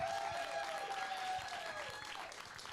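Audience at a caregiver expo applauding enthusiastically, thick sustained clapping from a crowd with a faint whistling tone drifting above it, fading slightly toward the end.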